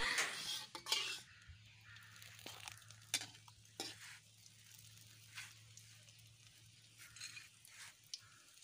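Oil sizzles softly in a home frying pan while a utensil scrapes and clinks against the metal in irregular stirring strokes, with a low steady hum underneath and no talk over it.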